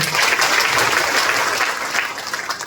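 Audience at a stage event clapping loudly, a dense continuous burst of applause from a crowd that stays strong throughout and eases slightly toward the end.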